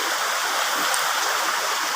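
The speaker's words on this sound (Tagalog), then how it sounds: "Sa baba kasi itong ilog." A river flows somewhere below the spot, giving a steady, even broadband rush of moving water that continues without a break and with no talking.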